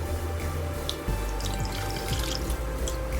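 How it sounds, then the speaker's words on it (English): Warm water pours steadily into a bowl close by while making pide dough, a continuous splashing stream with a bubbling, gurgling tone. "And now I'm gonna start pouring some warm water."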